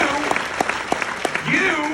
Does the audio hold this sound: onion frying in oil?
no